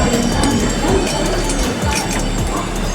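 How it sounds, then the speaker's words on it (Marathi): Intercity Express train standing at Dadar station during boarding, a steady loud rumble with clanking mechanical sounds and crowd noise filling the scene throughout. "आमची ट्रेन आली आहे दादरला. D5मध्ये आपण बसणार आहे."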